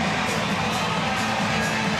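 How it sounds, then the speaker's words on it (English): Arena crowd at a FIBA AfroBasket 2017 basketball game between Tunisia and Guinea, fans on their feet cheering loudly in a dense, continuous roar with scattered whoops and shouts, steady throughout. "Crowd are on their feet"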